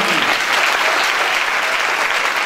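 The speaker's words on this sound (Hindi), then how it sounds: "जोरदार तालियां खुदा के लिए" Loud, sustained applause from a large crowd fills the whole stretch at an outdoor prayer festival in Faisalabad, a dense steady wash of clapping.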